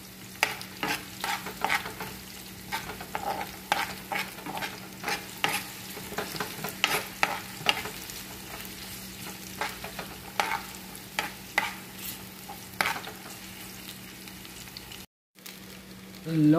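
Rice being stir-fried with onion and garlic for sinangag, heard as a rapid series of close, loud spatula scrapes and clanks against the pan over a steady sizzle, with a short silent break near the end.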